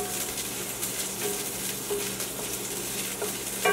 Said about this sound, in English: So I'll start with sauteing my onions.